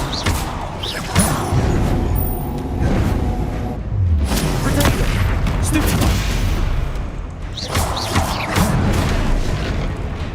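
A fire spell is cast in the Hogwarts Legacy video game, heavy booming blasts and whooshing bursts arriving in waves amid combat effects, with a voice shouting spell names over the din.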